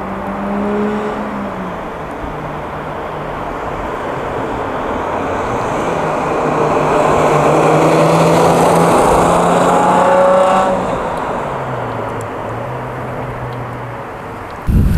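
An Alfa Romeo Alfa 6 engine hums steadily while driving, swelling slightly louder mid-way as it pulls, then easing off; heard from inside without talk.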